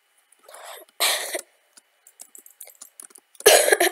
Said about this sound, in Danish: jeg har hostet også en lille smule